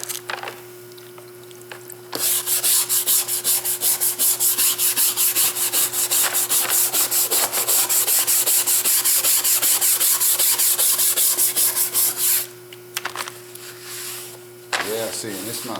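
Dark glue residue is scrubbed off a VW door panel, a loud rapid rasping rub that runs steadily for about ten seconds after a quieter start, then drops back to a low hum with a few final strokes.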